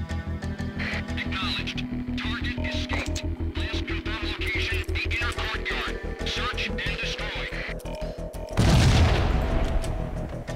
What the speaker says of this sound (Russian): Что это взорвалось?